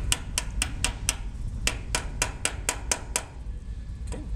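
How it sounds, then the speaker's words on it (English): Channel locks tap a brake line tab down at a brake tee, making about a dozen sharp metallic taps in a fairly even rhythm, close and distinct, with no talk. "we're going to tap down this tab"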